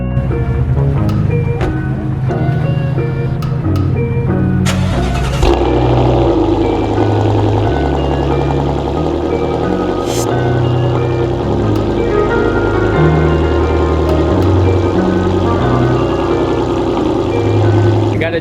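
A supercharged Scion FR-S engine, jump-started in a garage after sitting unused for a long time, cranks with a few sharp clicks and then settles into a loud, steady, close idle.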